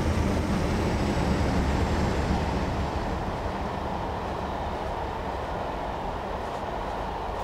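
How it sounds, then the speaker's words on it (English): A Class 47 diesel locomotive hauling an eight-coach Intercity Express passes at Shap Summit in a train simulator game, a steady loud rumble of engine and rolling stock that fades slightly as it goes by. "Here's the other train. It's a Class 47 with an Intercity Express."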